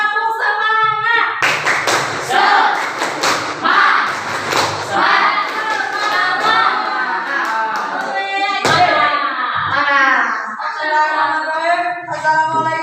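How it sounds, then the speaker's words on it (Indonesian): A group performs a rhythmic 'tepuk semangat' spirit clap, with bursts of patterned clapping and chanting voices that stop and restart, loud and close, mixed with shouting. "Ayo, tepuk semangat"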